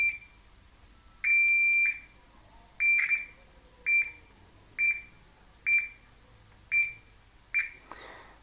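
A digital multimeter in continuity mode gives a series of sharp, high electronic beeps. Probes touch a ground wire and button connections on an Arduino robot project, producing one longer tone followed by about seven short evenly spaced beeps, clear and close.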